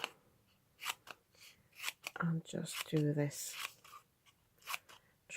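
Scissors snip through card while Easter gift boxes are being made, giving a few short crisp cuts close by, interleaved with someone talking quietly.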